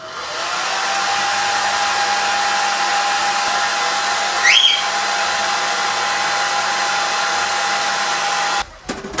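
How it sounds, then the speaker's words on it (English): A hair dryer blows with a constant, loud whooshing roar, a brief squeaky shift in the middle, before it clicks off near the end. "your curler on the middle stand of your blow dryer and warm up the rubber band there"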